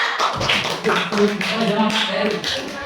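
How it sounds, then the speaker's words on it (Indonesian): Brief applause from a small group, a quick burst of scattered claps with some voices mixed in. "boleh kasih tepuk tangan untuk kelompoknya Nurwaila?"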